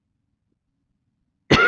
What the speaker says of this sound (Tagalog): Naubo tayo mga tolits.